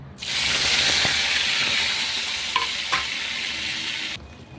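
Spices for tempering hit hot oil in a pan for a mango fish curry, giving a loud, steady sizzle and hiss that runs nearly five seconds, with a couple of brief stirring clinks, then cuts off abruptly.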